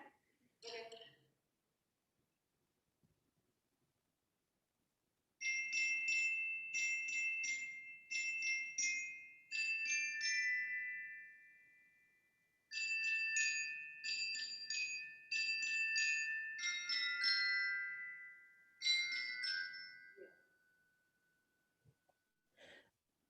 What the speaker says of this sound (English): Can you play the bell lick again?